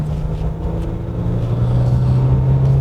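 A Jaguar F-Pace S with a 3-litre V6 diesel engine is on the move, giving a steady, loud, low drone inside the cabin with a slight rise in pitch toward the end.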